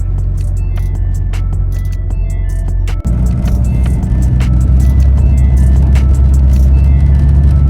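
Loud steady engine drone from a 1999 Jeep Cherokee XJ driving after a MAP and IAT sensor replacement, heard from inside with a brief thump partway and scattered small rattles.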